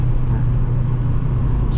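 2006 Toyota Matrix XR engine accelerating from inside the cabin, a loud steady low drone with road rumble, brief and continuous without talk.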